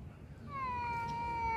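A single drawn-out cat meow, close and clear, rising then holding steady over a quiet low rumble.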